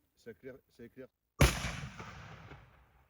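A single loud rifle shot rings out at night during a wild boar cull, with a sharp crack and a long fading echo. A few quiet spoken syllables come just before it.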